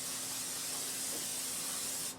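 Cooking spray hisses from a can onto a cookie sheet for a homemade taco pizza, one continuous close spray lasting about two seconds before cutting off.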